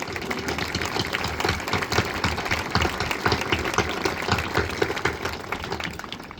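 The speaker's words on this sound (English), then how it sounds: "A special round of applause, please" A graduation ceremony crowd applauds with dense, continuous clapping from many hands, steady and moderately loud throughout.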